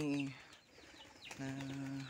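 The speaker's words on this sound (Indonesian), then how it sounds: "burung merpati nah, seperti ini" Faint, close bird calls as pigeons compete with chickens for food. Two drawn-out, tonal cooing or clucking calls are separated by a short quiet gap.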